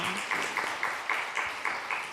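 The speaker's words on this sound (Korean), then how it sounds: "다시 한번 우리 홍보팀에게 큰 박수 부탁드립니다." Young adult church congregation applauding the publicity team at a Sunday service, a continuous moderate round of many hands with a faint pulsing rhythm, somewhat distant.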